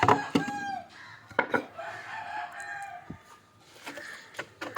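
Native country chickens in a coop at morning opening time, clucking and crowing in a busy overlapping chorus with sharp bursts and calls, fairly close and moderately loud, with some clatter.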